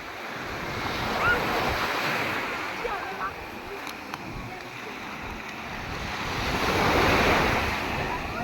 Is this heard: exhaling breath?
no